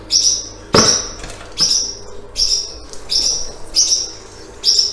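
Small birds in a poultry coop chirp in short, high, repeated bursts about every half second, fairly close, with a brief flutter of wings and no talking.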